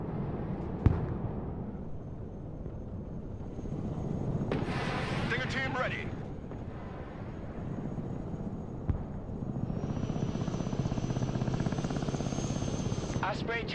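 CH-53 heavy-lift helicopter in the video game Broken Arrow, a continuous whirring rotor drone under game radio voices, with scattered distant bangs and a brief roaring jet-like swell midway.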